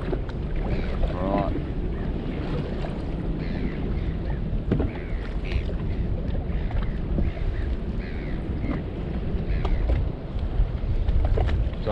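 Wind gusts over a small fishing boat at sea where bonito and mac tuna are being cast for, a continuous low rumbling roar buffeting the microphone throughout.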